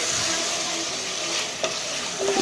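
Mutton pieces with bone and fat frying in biryani masala in a pot, giving a steady, loud, close sizzle with scraping stirs and a couple of sharper clinks near the end; no talking.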